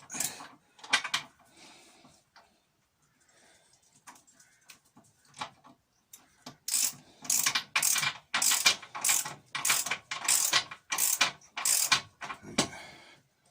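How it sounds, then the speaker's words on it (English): Ratcheting clicks of a wrench tightening a nut underneath a Laguna 18/36 wood lathe, first a few sparse clicks, then a quick regular run of loud close metallic ratchet strokes after a pause. "What you got to do is go underneath the lathe and tighten that nut up again."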